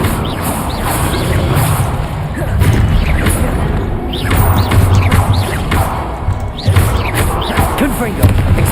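Confringo fire-blast spells cast in the video game Hogwarts Legacy, a string of booming, crashing impacts mixed with battle effects while a voice talks over the action.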